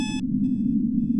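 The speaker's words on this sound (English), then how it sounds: "let's just get out of here because the beeping's really loud" Loud electronic beeping from the Sally Face video game sounds as a repeating tone in three bursts: a short one, a longer one, then another, over a constant low background hum.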